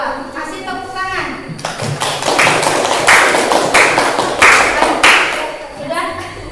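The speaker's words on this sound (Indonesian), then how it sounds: "Kasih tepuk tangan." Schoolchildren in a classroom clap together for a group presentation, starting after a brief pause and building into sustained, fairly loud applause for several seconds before tapering off, with a few young voices mixed in.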